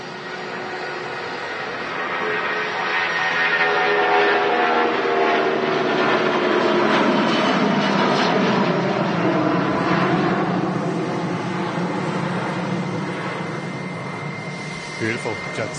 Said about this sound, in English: Beautiful, Jet2 757.